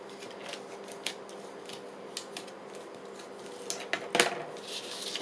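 Scissors trimming the paper ends of a journal flap, a few quiet close snips scattered over several seconds with one sharper, louder cut near the end, no talking.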